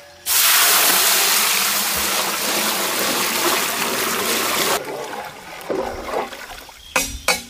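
Water pours loudly and steadily into a cooking pot while mutton biryani is made outdoors in a village setting, a continuous gushing splash that eases after about five seconds into lighter trickles and a few knocks.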